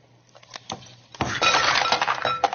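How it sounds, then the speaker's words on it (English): Ice cubes dumped into a glass in a clattering burst of clinks and rattles after a quiet start, loud and close with no talk. "Okay, dump the ice cubes in here."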